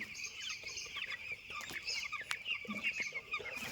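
Several chickens cluck and chatter steadily close by, a busy flock with no talking.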